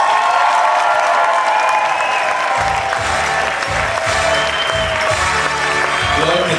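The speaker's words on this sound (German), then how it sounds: "wie klingt denn hier der Applaus heute Abend in Irsch?" Audience applause at an evening show in Irsch, a dense steady wash of clapping with a low rhythmic beat starting partway through, loud and continuous throughout.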